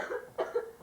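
A sick child gives a single short, soft cough, quiet and slightly distant, during a family vacation in Colorado.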